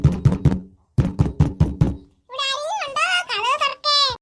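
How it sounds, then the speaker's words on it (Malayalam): Knocking on a door at night comes as two quick bursts of sharp raps, several knocks each, close and loud, followed by a high, childlike voice calling out. "ഈ രാത്രി ആരാ നമ്മളെ വിളിക്കുന്ന കഥവിന് മുട്ടുന്നത്?"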